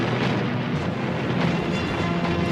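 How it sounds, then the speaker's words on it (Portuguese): Massive First World War artillery fire rolls as a dense, continuous, rumbling barrage of distant booms with no single distinct blast standing out. "foi possível iniciar a artilharia maciça na defesa e no ataque"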